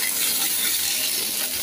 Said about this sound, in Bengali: দেখুন কত কম তেলে পটলটাকে আমি নাড়ছি, গ্যাসের ফ্লেমটা একবারেই কমিয়ে দিয়েছি